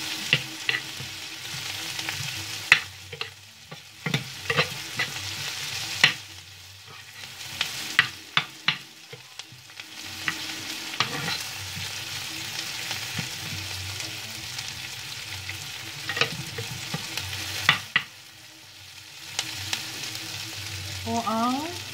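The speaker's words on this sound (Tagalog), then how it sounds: "Natin maluto ang sibuyas at bawang." Onion and garlic sauté in a pan for a mung bean soup, giving a steady close sizzle broken by sharp, irregular spatula scrapes and clinks throughout, with no talking.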